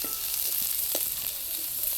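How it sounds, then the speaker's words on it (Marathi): Garlic sizzles steadily in hot oil on a wood-fired stove, a busy crackling hiss with small pops, no voices. "आता हा लसूण आपल्याला चांगला तळसून घ्यायचा"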